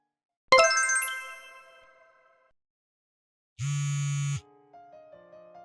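A phone call comes in: a bright metallic chime rings out and fades, then a loud electronic buzzing ring sounds alone for about a second, followed by a few soft, faint tones.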